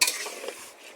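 Chicken pieces being slow-fried in oil with spices, a spoon scraping and stirring them through a soft sizzle in one short, close burst.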